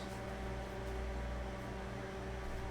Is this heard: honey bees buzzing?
no